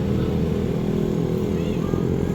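Motorcycles on a highway shortcut, a loud continuous engine drone with steady low pulsing, close by.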